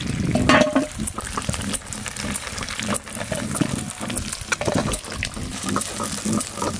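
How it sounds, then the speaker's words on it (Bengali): Pieces of yam fry in oil in a kadai over a village-style clay stove, with steady sizzling broken by repeated scraping and stirring sounds. "মেটে আলুগুলো কিন্তু আমি ভেজে নিচ্ছি, সেদ্ধ করলাম না।"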